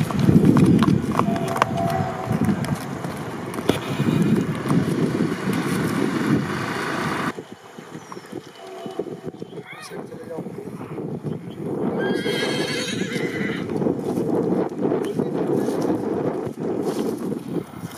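A Marwari mare being walked outdoors, hooves clip-clopping in a steady rhythm with loud neighs and whinnies close by, wind buffeting the microphone and a brief quieter stretch midway.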